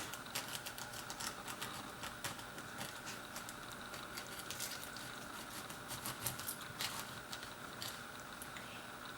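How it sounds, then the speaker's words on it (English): A knife scores lines through the skin of a pineapple, over the rows of eyes, for a spiced roasted pineapple dish; it makes a steady run of soft, close crackling cuts that carries on for the whole stretch, with no talking. "Now we're going to cut a second line on top of these eyes, like this."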